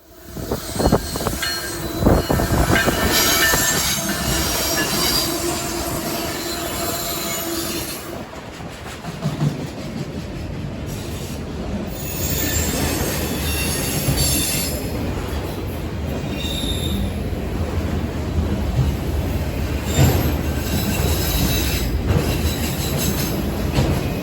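A daily manifest freight train full of auto racks rolls past in Maryland, wheels squealing loudly and continuously with steady rumbling rail noise for the whole pass and no voices.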